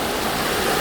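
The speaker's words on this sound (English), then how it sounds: "A waterfall. Certainly is one." A steady, dense rush of falling water from a waterfall at a rural campsite in Bannaby, New South Wales, heard close and continuous with no pauses and nobody speaking over it.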